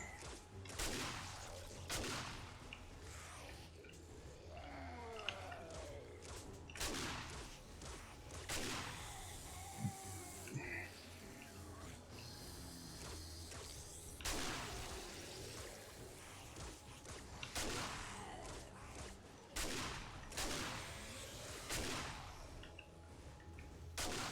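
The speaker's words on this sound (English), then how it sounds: "the shotgun is just as effective as a grenade would be" Repeated shotgun blasts fire at a zombie horde on horde night in 7 Days to Die, sharp broadband bangs every few seconds with steady game ambience between shots and no talk.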